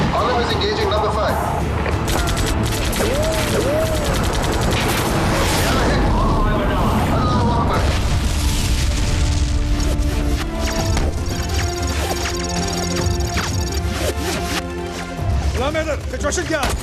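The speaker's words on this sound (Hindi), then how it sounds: "इस तरफ से हैवी फायर हो रहा है सर।" Heavy gunfire and explosions fill a 1965 India–Pakistan war film, a dense continuous barrage of blasts and crashes mixed with music and shouted voices throughout.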